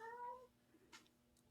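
A cat meows in a short, quiet rising-and-falling call near the start, followed by faint small rustles in a low hum.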